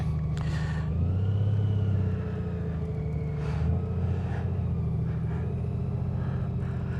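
A Honda Goldwing motorcycle rides a slow figure eight, its engine a steady, close low rumble that swells briefly as the throttle opens, with wind noise and no talk.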